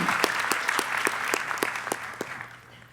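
A senior class night audience at a school claps for about three seconds, moderately loud with a few distinct sharp claps standing out, fading at the end.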